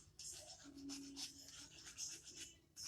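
An acrylic nail being buffed to remove its shine, soft raspy rubbing strokes in short repeated passes, very close and quiet.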